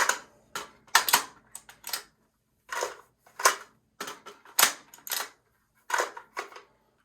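An AR-15 magazine is repeatedly brought up and inserted into the rifle during reload practice, giving a series of sharp metallic clicks and clacks in irregular clusters, close and crisp with quiet gaps between.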